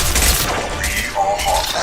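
Heavy gunfire rages in the Mass Effect 2 video game, a dense burst of shots and booms that stays loud throughout, with mechanical clatter and a synthetic voice speaking over the fighting.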